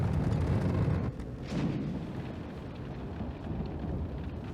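Polluted rain falls over the city of Lorville in Star Citizen, a steady dense hiss with a low rumbling swell of thunder near the start that eases into a continuous wash.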